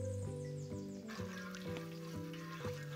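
Garlic sizzling in oil on a disco pan, a steady dense frying hiss with occasional scraping stirs, close and alone.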